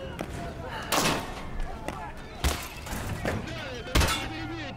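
Several sharp, separate gunshots with echoing tails ring out during a battle scene in an Escape from Tarkov live-action film, spaced a second or two apart, over scattered background voices and spoken dialogue.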